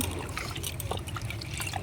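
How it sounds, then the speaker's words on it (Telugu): Water trickles and pours off a batch of washed lentils being drained for a tamarind-leaf dal, a brief, steady splashing stream lasting under two seconds. "బ్యాళ్ళని కడిగి నీళ్ళు వంచేసి"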